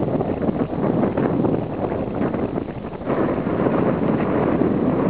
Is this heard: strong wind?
yes